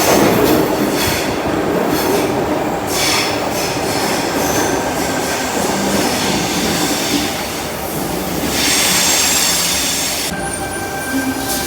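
A Sydney Tangara train runs through an underground metro station, its steady loud rumble and rail noise filling the clip with faint wheel squeal and clacking, and no talk.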